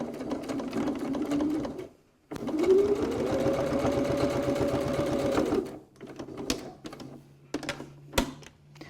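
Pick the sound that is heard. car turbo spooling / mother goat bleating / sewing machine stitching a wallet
sewing machine stitching a wallet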